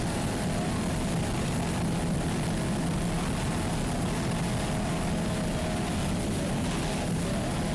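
A 33-foot Fountain powerboat with twin 540 Conrad engines and Conrad TRS drives runs at speed, a loud, continuous, dense engine roar with a steady low drone and no break throughout.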